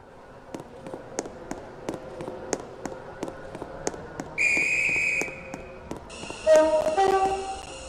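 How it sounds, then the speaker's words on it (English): A train arriving at a station platform, with rhythmic wheel clicks over rail joints building steadily before two loud sustained horn blasts sound near the end. "The train now approaching platform 5 terminates here."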